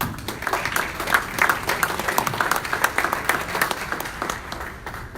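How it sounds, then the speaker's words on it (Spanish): Steady audience applause fills a hall at a church thanksgiving service, dense clapping rising and falling slightly without a break, close and fairly loud throughout. "Recibámoslo por favor con un fuerte aplauso"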